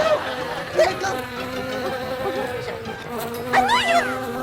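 A large bee buzzing close to a person, a loud droning hum that rises and wavers in pitch as it moves, with brief excited voices in the background.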